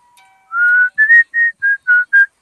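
A person whistles in imitation of a skylark's song: one longer sustained note followed by five short, bright chirped notes in a quick, even rhythm, close and alone.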